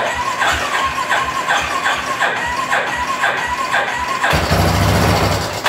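Yamaha 350cc engine on a kart, fed through a custom fuel injector, being cranked in a quick repeated rhythm of pulls, then briefly catching into a rough, louder roar before stopping.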